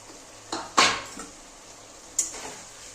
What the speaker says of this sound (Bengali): এবার আমি মাছগুলো সব দিয়ে দিচ্ছি।